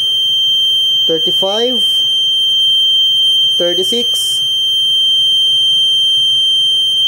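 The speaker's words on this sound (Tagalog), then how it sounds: "So, nag-activate yung buzzer." An Arduino temperature alarm buzzer holds a steady, shrill continuous tone throughout while a person speaks briefly over it twice.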